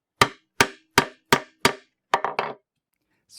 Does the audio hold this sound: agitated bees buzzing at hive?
no